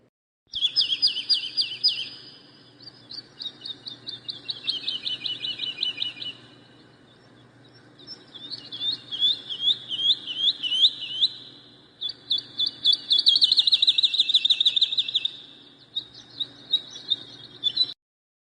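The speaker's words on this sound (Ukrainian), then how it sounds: "жайворонок." A skylark pours out fast, high, warbling trills in long unbroken phrases, with brief gaps between them. The song is clear and close, with a faint low hum underneath.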